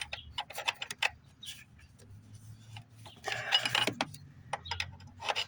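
Wrench ratcheting on the PCV valve of a 2001–2006 Toyota Camry with a 1MZ-FE engine, quick bursts of clicking ticks with short pauses and a scraping rattle midway, close and fairly quiet.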